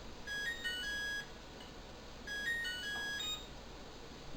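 A kitchen oven timer beeps in two short electronic bursts of repeated high tones, each lasting about a second, moderately loud over a steady background hiss with no talking.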